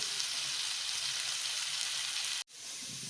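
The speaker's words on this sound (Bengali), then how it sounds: "আলুটাও আমি এবার ভেজে নিচ্ছি একসাথে ভালো করে" Potatoes and onions fry together in a pan with a steady, soft hiss of sizzling oil that cuts out abruptly for a moment, then resumes quieter.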